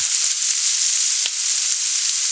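Onions and a spice seasoning mix fry in a hot pan for stuffed bell peppers, making a loud, dense, continuous sizzle with a few faint pops and ticks, with no voices.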